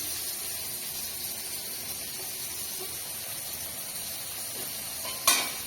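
Food sizzles in hot oil with a steady, even hiss, and a brief clatter comes just before the end.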